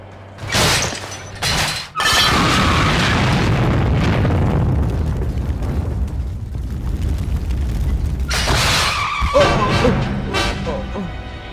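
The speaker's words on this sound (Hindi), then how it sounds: "देखो तो पटाखों की तरह गाड़ियों को कैसे उड़ा रही है" Cars explode in heavy booming blasts and crashing debris in a South Indian action movie scene, with loud rumbling between them and a voice speaking over parts of the chaos.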